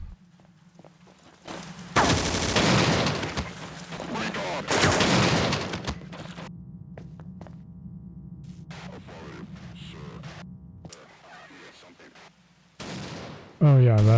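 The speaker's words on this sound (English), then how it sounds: "that assault rifle also has the grenade launcher, as I discover here" Automatic assault rifle fire with grenade launcher blasts from Marine-type enemies in the Half-Life Delta Particles mod: loud sustained bursts of gunfire around two and five seconds, with steady hum and sparse shots between, ending in a sharp loud blast.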